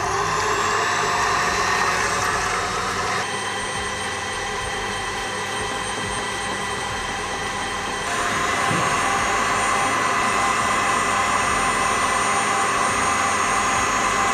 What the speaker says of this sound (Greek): Θέλουμε να χτυπήσουμε τα αυγά σε δυνατή ταχύτητα για περίπου 5 λεπτά